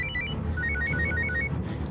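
A phone rings with a bright, repeating melodic ringtone, its rapid chiming notes continuing steadily and close by over a low background hum.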